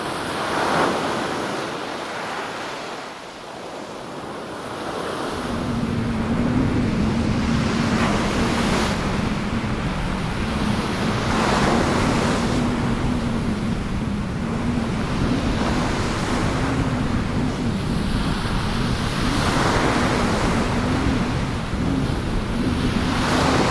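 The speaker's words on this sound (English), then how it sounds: "having a lovely day out on the beach with Dangler" Waves breaking on a sea-angling beach with strong wind buffeting the microphone, surf swelling and rushing in repeated surges, loud and continuous without voices.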